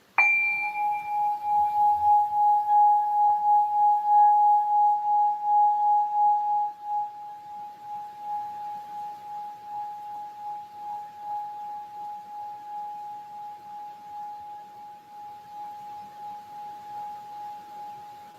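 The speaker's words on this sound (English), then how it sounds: "I'm going to hit this bowl." A bowl is struck once and rings out in a clear, sustained metallic tone that slowly fades over many seconds, alone and near.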